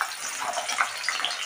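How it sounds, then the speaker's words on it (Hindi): Cut potatoes hit hot oil for a brinjal potato sabzi, giving a bright, steady hissing sizzle with small crackling pops, moderately quiet and unbroken. "ऑयल अच्छे से गर्म हो चुका है। इसमें हम कटे हुए आलू डाल देंगे"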